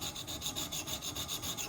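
A knife edge drawn repeatedly along the stones of a Wicked Edge Go sharpener, working the apex: steady rhythmic rasping strokes, close and continuous, with a bright scraping hiss in each pass.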